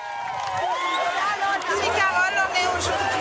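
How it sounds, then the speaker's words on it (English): A street crowd in Antananarivo cheers for uniformed soldiers, and a mix of many voices shouts and calls out in a lively babble, with whoops and yells rising over the steady hubbub. "crowds of people in the capital Antananarivo yesterday cheering for uniformed soldiers in the streets"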